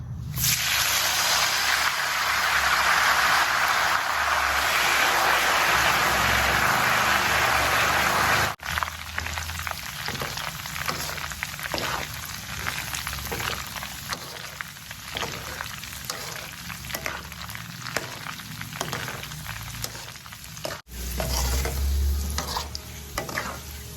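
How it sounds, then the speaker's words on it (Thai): A loud burst of crackling sizzle as holy basil leaves hit hot oil, easing into a lighter, steady frying crackle with faint scraping of stirring. "เราก็ ใส่ใบกะเพราลงไปได้เลยจ้ะ เสียงจะดังนิดนึงนะคะ"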